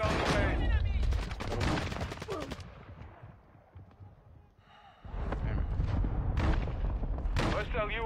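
Mortar strikes and gunfire in a military video game boom and rattle in loud bursts, fading into a quieter gap before heavy firing resumes, with voices over the noise.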